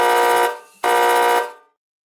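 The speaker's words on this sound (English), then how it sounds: "I have a buzzer that goes like this." A harsh electronic buzzer sounds twice in quick succession, loud and close, the first blast about half a second and the second slightly longer, then silence.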